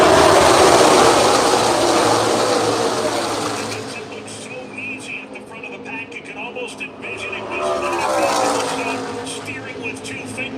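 NASCAR race cars, Chevrolets and a Toyota, roar around Daytona in a dense pack, the engine drone loud at first and then easing under a commentator's voice.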